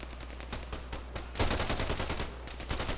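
Gunfire in the Arma 3 video game: steady rapid machine-gun bursts, loud and close, swelling into a heavier barrage of overlapping shots partway through.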